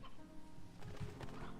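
Painted hens in a video game cluck softly in short, quiet bursts, with a few fowl calls against a faint background.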